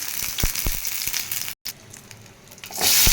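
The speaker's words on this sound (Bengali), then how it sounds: "ভাজা হচ্ছে, চটচট করছে" Frozen snack pieces fry in hot oil with sharp crackling pops near the start, then a softer bubbling hiss that swells loud at the end after a brief cut.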